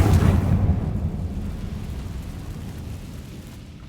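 A Confringo fire spell explodes in the video game Hogwarts Legacy: a loud, deep blast at the start that rumbles and slowly fades over a few seconds, with no talking.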